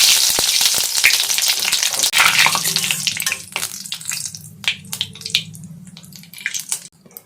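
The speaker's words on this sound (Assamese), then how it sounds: "তেল মোৰ গৰম হৈ গ'ল, মই আধা চামুচ গোটা জিৰা দিছোঁ" Whole cumin seeds and a bay leaf drop into hot oil in a kadai and sizzle loudly at first, the hiss then thinning into scattered crackles and pops.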